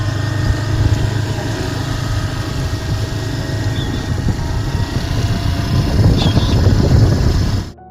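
A vehicle engine runs close by with a loud, rough, rumbling idle that builds slightly toward the end before cutting off abruptly.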